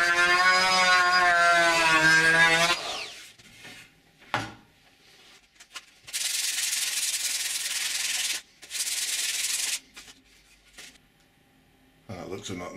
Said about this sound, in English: I'm going to get the router along here, get a nice curved edge along the front of this